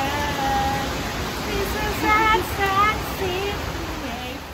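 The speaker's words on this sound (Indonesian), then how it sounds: "Tuh semakin deras hujannya." Heavy rain pours down steadily in a broad, loud hiss that fills the whole scene, with voices and faint singing-like tones surfacing over it throughout.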